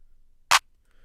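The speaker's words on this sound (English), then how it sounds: "It's a really standard clap." A single short, crisp trap clap sample plays once in Logic Pro X, a sharp bright snap standing alone against near silence.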